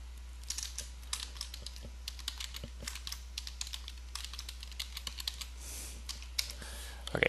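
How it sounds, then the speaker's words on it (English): Password being typed on a computer keyboard at a desk, a steady run of light, close key clicks with uneven rhythm and short pauses, no talking. "let's type this password in here better"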